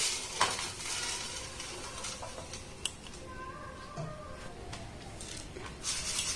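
Hot salt shaken through a metal sieve to separate freshly roasted puffed rice, giving a steady granular rustle and scrape with a few sharp metallic clinks, close and fairly quiet.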